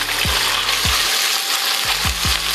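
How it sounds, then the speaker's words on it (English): Rice noodles for pad thai stir-frying in a hot pan, giving a steady loud sizzle with four low scraping thumps of a spatula spaced through the stretch. "So I stir a little bit"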